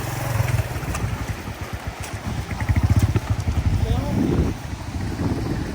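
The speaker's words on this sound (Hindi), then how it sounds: "यहाँ से एक और बाइक आ गई जी हमारी" Motorbike engine on a snowy mountain track in Azad Kashmir, a low chugging rumble that rises and falls as the bike labors past close by, with wind buffeting the microphone and a voice briefly underneath.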